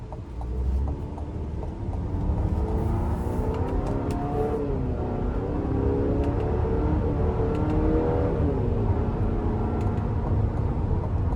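A 2025 GMC Acadia Elevation accelerating in sport and low mode, heard from inside the cabin: a rising engine drone that climbs in pitch, eases during shifts and keeps pulling steadily, with road and wind noise underneath.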